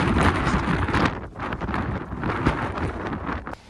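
Strong gusting wind buffets the microphone on an exposed Lake District fell during the Kentmere horseshoe walk, a loud continuous roar with surging blasts and brief lulls, no talking.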